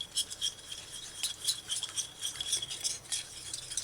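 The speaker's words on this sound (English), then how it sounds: "once you add all the ingredients for the marinating sauce," A spoon stirs marinating sauce for chicken and broccoli in a bowl, giving rapid, continuous metallic clinks and scrapes against the sides, close and fairly quiet with no voices.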